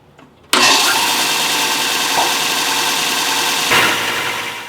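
A belt sander fitted with an 80 grit belt switches on abruptly after a brief quiet moment, then runs with a loud, steady, rushing whir, with a small surge near the end.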